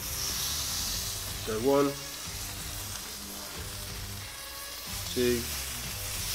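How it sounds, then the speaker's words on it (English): Small piles of onions sizzle steadily on a hot plate while being cooked for surf and turf sliders, a constant close frying hiss running throughout beneath a man's brief counting speech. "we're just going to put a little pile of onions for each of the sliders onto this hot plate"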